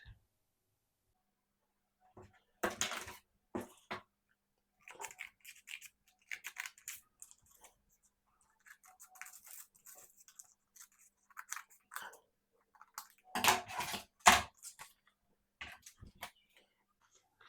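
Scissors snip roughly through fabric for a salwar in short crisp bursts, isolated cuts and a denser cluster near the end. The room is quiet and no one speaks.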